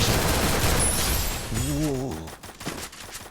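MP40 submachine gun fire in the mobile shooter Free Fire comes in dense, rapid bursts that fill the opening seconds, then thins to scattered shots while a voice briefly talks over the gameplay.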